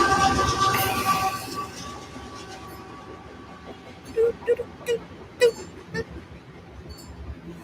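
A train passes, heard as a faint, distant rail rumble with a few brief tonal hoots or squeals rising over it midway.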